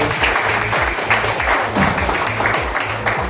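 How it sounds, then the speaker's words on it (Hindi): A church congregation at a prophetic ministry service claps together in steady, rhythmic applause, loud and close throughout with a faint voice underneath. "प्रभु को ताली बजाएं।"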